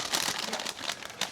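A plastic bag of cotton candy is torn open in a candy shop, giving a brief burst of close crinkling and rustling.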